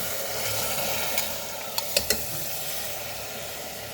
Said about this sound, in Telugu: ఒక 1 మినిట్ వరకు బాగా కలపండి. ఫ్రై చేయండి మినపప్పును కూడా.